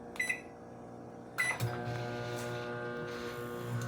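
A microwave oven cooking eggs in a two-cavity silicone egg poacher: keypad beeps come first, then a soft steady hum with a low whirring drone sets in and keeps running, heard close and quiet.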